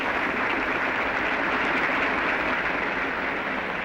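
A large cricket crowd applauds steadily as Don Bradman walks out to bat in his final Test innings, a dense, even roar of clapping with no break.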